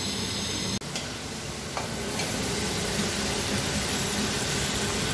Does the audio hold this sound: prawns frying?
yes